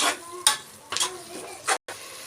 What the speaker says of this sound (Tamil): நல்லா வதக்கி விட்டுறலாங்க.